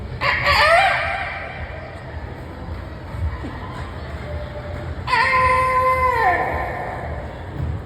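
A man on a Tamil comedy TV show stage imitates a rooster's crow twice, each call rising and then sliding down, separated by a few seconds of quieter background.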